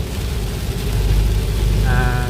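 Heavy rain pours steadily over a vehicle on the road toward Attapeu, a dense continuous hiss with a low rumble beneath, and a brief tonal sound rising near the end.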